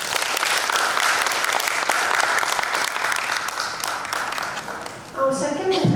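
Dense audience applause for the first contestant at a public speaking competition, full and steady for about five seconds before fading as a voice begins speaking.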